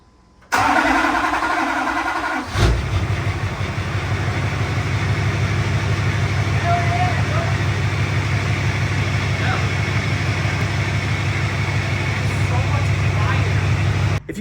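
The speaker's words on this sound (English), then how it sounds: "We're gonna go ahead and try and crank it one more time." A Duramax diesel with new injectors cranks briefly, then catches and settles into a steady, loud, close idle with a low rumbling drone that runs to the end.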